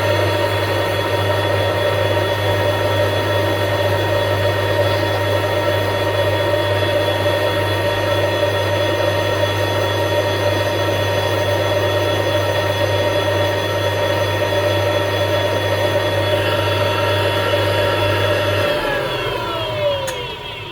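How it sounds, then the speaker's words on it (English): A small Dremel rotary tool cleans out the setting of an opal ring. It gives a steady high-pitched whine that holds for about twenty seconds, then the pitch shifts as the tool winds down near the end. "Next I'm going to just get in there and just give it a good clean out with the Dremel."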